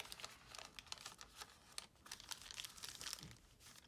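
A paper lunch bag being folded and creased by hand, giving quiet, close crinkling and rustling in short repeated bursts.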